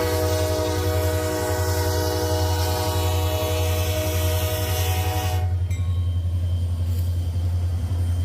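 A Wheeling & Lake Erie freight train hauling coke rumbles past near Brighton and Clarksfield, Ohio, a heavy low drone under a sustained horn blast that drops away partway through while the rolling rumble continues, with no talking.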